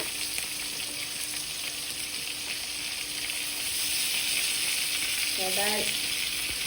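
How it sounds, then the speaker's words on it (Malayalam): Chicken sizzles and fries in a pan, a steady bright hiss with faint stirring, and a short burst of birdsong-like chirps late in the clip. "ഇതാണ് ചിക്കൻ പൊരിക്കാൻ വെച്ചത്."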